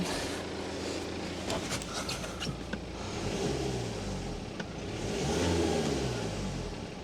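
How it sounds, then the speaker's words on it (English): A BMW engine that had run out of fuel is revved repeatedly, its note swelling and falling in loud, close surges over a constant idle-like drone. "Let's get back in, give it a little rev."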